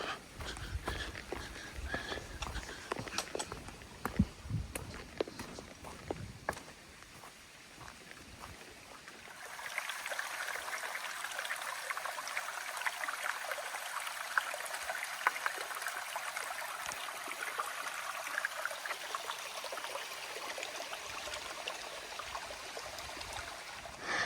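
Running creek water rushes and trickles steadily in Cathedral Range State Park, Australia, becoming a brighter, fuller hiss partway through, with occasional knocks and panting breath during a creek crossing on a hiking walk.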